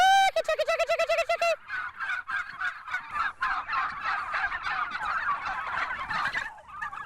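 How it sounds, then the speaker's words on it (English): Heritage turkeys on Cane Creek Farm gobble in a loud, rapid harmonic burst, followed by a dense, continuous chorus of overlapping bird calls from the flock, with no voices. "so proud of her flock of heritage turkeys"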